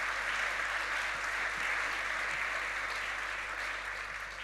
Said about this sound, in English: And then another another round of applause.